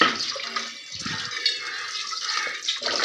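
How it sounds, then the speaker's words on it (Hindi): A cooking pot is rinsed and filled with water under a running tap, splashing and gushing steadily at close range with brief dips and surges, no talk. "इसको धो के इसमें पानी भरना है अपना"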